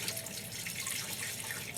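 Buffered acid descaling solution poured onto calcium deposits during a boat survey, a steady broadband liquid splashing and fizzing that runs without a break and sits close at moderate level, with no voices.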